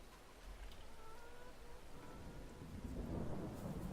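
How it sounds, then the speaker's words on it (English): Rain and rumbling thunder from a Farming Simulator 22 farm, a steady rain hiss with a deep thunder roll swelling louder near the end, no voices. "Hope this rain stops soon."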